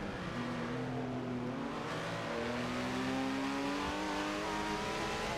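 A Lamborghini Countach accelerates hard in a racing video game. The engine note climbs steadily and stays loud and close, with no voices over it.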